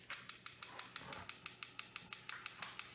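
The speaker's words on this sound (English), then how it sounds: "now our stove makes this annoying ticking noise." A household kitchen stove gives off a rapid, steady ticking, roughly six sharp clicks per second, evenly spaced and fairly quiet, with no voices over it.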